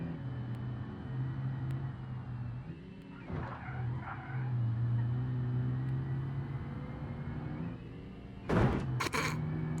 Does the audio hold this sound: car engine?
yes